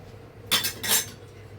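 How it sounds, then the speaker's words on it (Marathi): A metal lid set down on a pot of simmering eggplant curry gives two quick clinks and rattles close by, then quiet kitchen background. "आता परत आपण झाकण ठेवायचं म्हणजे वांग शिजे"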